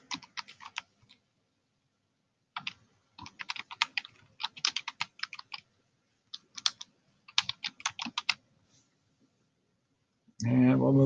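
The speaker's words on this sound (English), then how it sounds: "we're just going to type in independent variable" Computer keyboard typing in quick bursts of clicks separated by short pauses, close and clear, with a brief louder rustle or voice at the very end.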